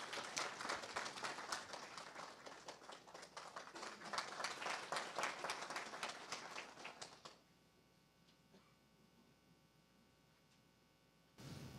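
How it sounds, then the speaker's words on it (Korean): Loud, dense applause from an audience at a Korean university's 2025 New Year opening ceremony, greeting the board chairman; the steady clapping runs about seven seconds, then stops abruptly into quiet room tone. "여러분 힘찬 박수로 이사장님을 맞아주시기 바랍니다"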